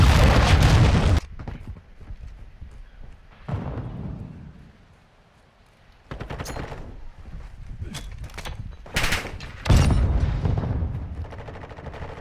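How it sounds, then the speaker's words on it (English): Cruise missile strike in a Call of Duty Hardpoint match, heard as bursts of gunfire and heavy booming blasts. Impacts arrive in clustered waves with short lulls between, loud and close. "Hostiles launched a cruise missile."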